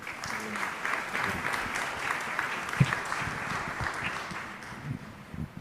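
Audience applause welcoming panelists to a stage at a conference, steady dense clapping from a crowd throughout, moderately loud with no break.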